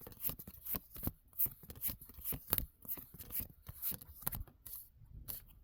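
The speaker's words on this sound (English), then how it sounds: "I'm pulling the cards." Tarot cards are pulled and shuffled from a deck in a series of quick, crisp papery flicks and slides, close and fairly loud, with no talk over them.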